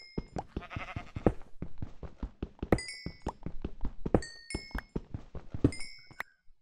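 Blocky sheep in Minecraft bleat in short, clipped calls amid a rapid series of knocking thunks and clicks, with several bright tonal blips, all close and distinct against near silence.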